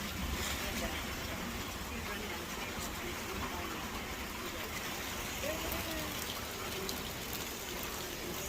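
Rain falls during a storm as a steady, dense hiss of drops on surfaces, continuous and even throughout, with no clear pauses.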